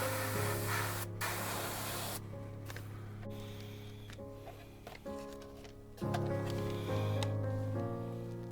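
Spray can laying a flat coat onto a model boxcar: a steady, close hiss of aerosol in several bursts with brief pauses between them, alone with no voices.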